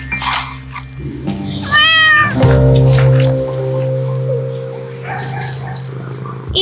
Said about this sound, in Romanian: o pisică